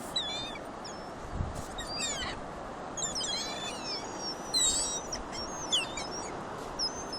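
Gulls calling repeatedly at moderate distance on a cold beach at Cherry Grove, short squawks and cries scattered over steady wind and surf noise.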